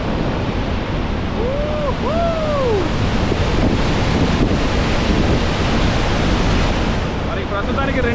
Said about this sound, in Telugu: సో 2 గేట్లు వదిలితేనే ఇన్ని వాటర్ వెళ్తున్నాయి చూసారా